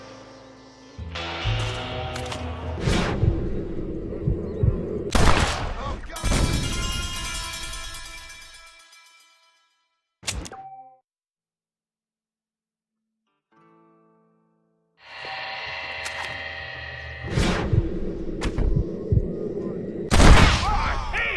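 Sharp gunshots crack out in a Red Dead Redemption shootout, coming as scattered single and clustered blasts, then a pause of near silence before another volley of loud shots.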